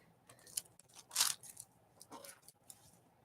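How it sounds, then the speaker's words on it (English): Quiet snips and crunchy cutting sounds from scissors with a textured edge, with one louder crisp snip in the middle and a few softer clicks around it, close by and without talk. "I forgot these scissors have like a textured edge on them. And they make a fun noise."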